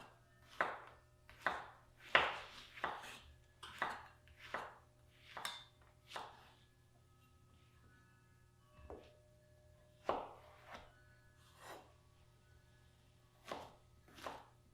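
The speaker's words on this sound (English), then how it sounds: "So just cut those in half that way before you start quartering because that's gonna make your cutting a whole lot easier" A knife chops yellow squash on a cutting board in a home cooking demonstration: about a dozen crisp, separate strikes, closely bunched at first and then spaced out, near and fairly quiet, with no talking.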